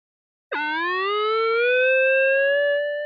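A single metal detector tone from a side-mounted speaker starts abruptly and holds, rising slightly in pitch, clear and fairly loud, sustained for a few seconds.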